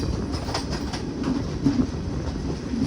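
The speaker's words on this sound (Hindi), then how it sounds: "देखते हैं, धीरे तो हो गई है ट्रेन।" An Indian passenger train slowing toward a station rolls on with a steady loud rumble, soft rhythmic clickety-clack of the wheels and faint squeals, heard from inside the carriage without talk.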